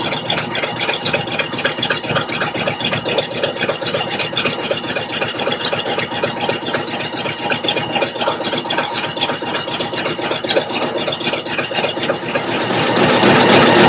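A Pfaff Creative Icon 2 embroidery machine stitches steadily, a loud, even mechanical whir and rapid needle patter running without a break from start to finish.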